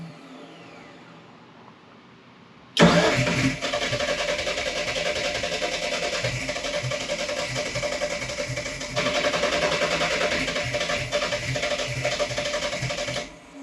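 A DSM drag car with Haltech engine management and a new turbo and head cranks and fires up abruptly after a quiet lead-in, then settles into a loud, steady, rough idle that rises slightly partway through before cutting off.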